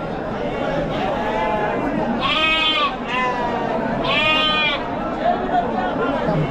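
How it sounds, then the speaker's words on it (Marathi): Sheep at a large goat and sheep livestock market in Chakan, Maharashtra, give two clear bleats a couple of seconds apart, heard over a continuous murmur of crowd chatter. "मेंढ्या बघा"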